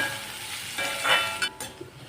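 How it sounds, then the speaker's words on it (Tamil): Onions sautéing in a pan for Kerala-style chicken keema dum biryani, a soft steady sizzle with a few spoon scrapes, close and fairly quiet, no voices. "இப்போ இந்த வெங்காயத்தை நம்ம நல்லா வதக்கி எடுத்துக்கிடுவோங்க"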